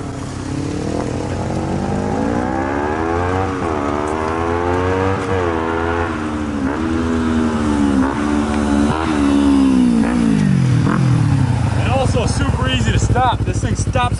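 A Kawasaki Ninja 250 with a stainless header and full exhaust revs up through several rising gear pulls, loud and close, the engine note climbing and dropping with each shift, with occasional talk over it.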